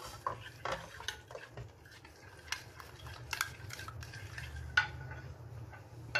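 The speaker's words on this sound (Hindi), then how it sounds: "अब इसको अच्छे से मिक्स करूंगी" Chicken coated in chili garlic sauce being mixed by hand in a bowl or pot, a quiet run of spoon clinks and scraping against metal over a low background hum, with no voices.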